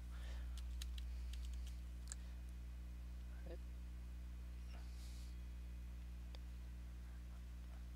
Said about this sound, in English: I'm using the laptop keyboard,